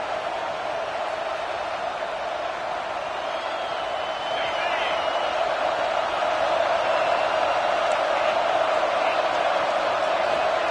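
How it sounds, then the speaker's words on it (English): Stadium crowd noise from the NCAA 26 college football video game forms a dense, steady roar that swells slightly midway and keeps going under faint whoops. "This crowd ready to make its presence known."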